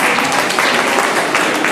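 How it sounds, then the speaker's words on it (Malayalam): Audience applause at an all-Kerala inter-school quiz fest, a steady, dense wash of clapping held at even loudness throughout with no pauses. "കൈയടിച്ചു."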